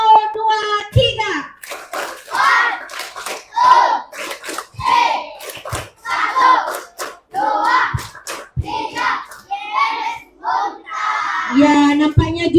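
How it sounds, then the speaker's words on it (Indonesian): A group at an Islamic cultural night performs a chanted clapping routine, sharp unison hand claps punctuating rhythmic group voices and a child's speech, close and loud. "mari kita sama-sama buat tepuk memati"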